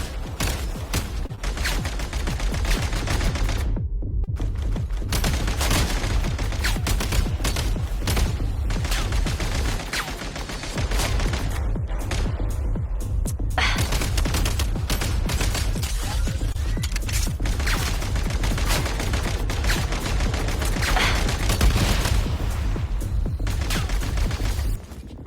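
Dense, heavy gunfire roars through a video game battle, with bursts and volleys packed almost continuously and loud from start to finish.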